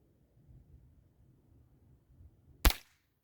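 A percussion cap fires on an 1842 British Navy pistol: one sharp, loud crack that decays quickly, after a faint low rumble of background noise.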